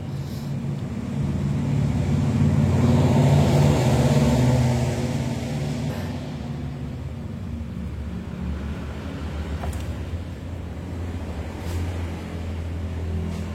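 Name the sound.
Yamaha NMAX scooter engine started and idling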